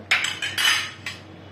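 A metal spoon scrapes and clinks against a cooking pot while stirring dal amti, five quick close strokes in an uneven rhythm, each a bright metallic rasp over a low background hum.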